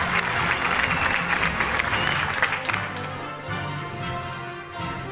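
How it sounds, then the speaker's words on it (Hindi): Audience applause at the City News Network annual award show in a hall, a dense sustained clapping that swells early and then settles, with cheering and an announcer-style voice partly under it. "round of applause ladies and gentleman for Ali Parvez Malik Saheb"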